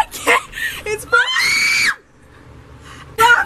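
Several sharp, high screams burst out in quick succession, loud and close, followed by a quieter pause and then another shriek in a frightening night-time scene.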